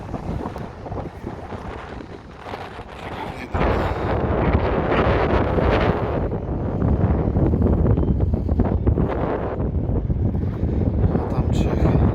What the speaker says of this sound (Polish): Jeszcze dzisiaj wiatr, więc nawet fale są piękne.